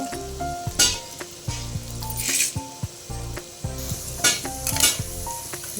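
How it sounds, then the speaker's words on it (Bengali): Potatoes frying in hot oil while being stirred for ghugni, a continuous sizzle broken by sharp scrapes and clinks of a spatula on the pan, close and fairly loud. "ভালো করে ভেজে নিচ্ছি আলুটাকে"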